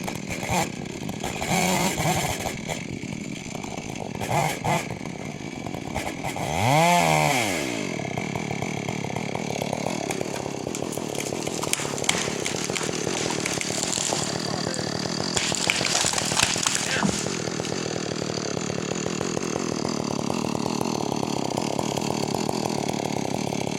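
A chainsaw cuts into a tree beside an ATV trail, revving and bogging in uneven bursts with one sharp pitch sweep, loud and close, with no talk over it.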